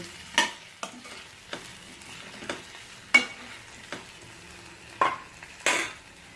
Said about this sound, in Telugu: దీని మీద ఉప్పు వేసిన తర్వాత ఒకసారి దీన్ని చక్కగా కలబెట్టండి